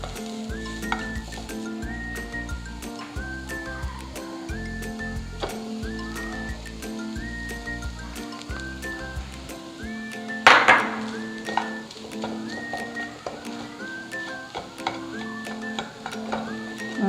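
Chicken filling with mashed potato is stirred in a pan for chicken bread bites, with rhythmic spoon scrapes and soft thuds, a brief louder clatter midway, and a faint background whine.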